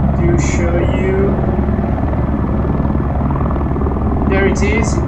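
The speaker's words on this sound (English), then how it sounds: "let me get back to flying the helicopter" A Eurocopter AS350 Ecureuil helicopter flies during sling load operations, its rotor and turbine giving a loud, continuous, throbbing drone heard from the cockpit, with short voice bursts over the intercom.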